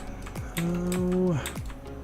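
A computer keyboard clatters with a few quick key presses, close and fairly loud, while a sustained tonal hum swells in the middle.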